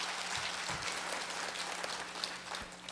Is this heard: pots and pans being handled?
no